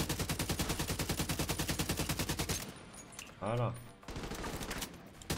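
Rapid automatic gunfire from The Division 2 fires in a loud, steady burst for a few seconds, then breaks off under a brief spoken word before more shooting resumes near the end.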